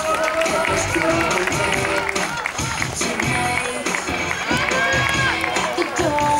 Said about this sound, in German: Applaus, Applaus, Applaus für die Männer.